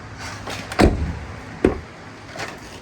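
Door of a 2000-2006 Chevy Tahoe worked after its exterior handle was replaced: two close clicks and latch clunks, the second a firm thud, then a faint click near the end.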